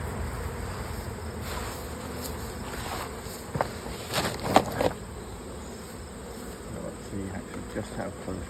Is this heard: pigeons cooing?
no